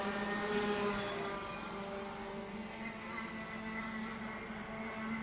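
Rotax racing karts scream at high revs on a track, a distant, buzzy high-pitched engine drone with layered overlapping tones, steady and fairly faint throughout.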